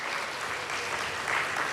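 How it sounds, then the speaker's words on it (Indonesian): A church congregation claps steadily for the choir in a dense burst of applause, loud and continuous throughout. "tepuk tangan dong untuk choir kita."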